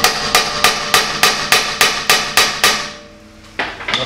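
A hammer strikes a chisel to loosen a seized brake screw on a 15-year-old Kia Picanto: nine sharp, evenly spaced metallic blows, close and loud, then a brief pause before one final strike.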